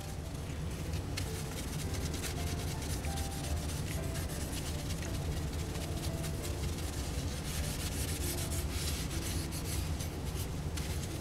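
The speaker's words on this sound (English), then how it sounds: "this is ordinary SOS steel wool. It's great for getting in uneven surfaces." SOS steel wool is rubbed by hand over a Kawasaki motorcycle part, giving a continuous close scratchy rasping that holds steady throughout.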